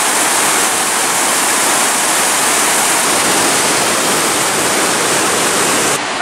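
A powerful waterfall roars continuously, a dense, loud rushing of water close by with no break or voices.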